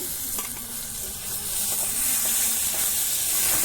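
Tomato hitting a hot pan of browned onions for a village-style yogurt chicken, with steady loud sizzling and steam hiss that swell as it is stirred, no talking.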